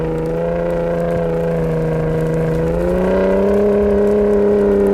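A Ford Raptor R engine with a new trombone exhaust drones steadily at close range, its deep tone rising in pitch partway through as the revs climb and then holding there.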